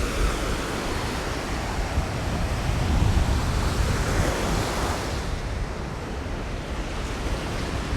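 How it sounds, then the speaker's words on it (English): Ocean surf at the Rockaways in New York City, a continuous roar of breaking waves with wind buffeting the microphone, broad and steady with a slight swell in the middle, no voices. "Nothing but ocean."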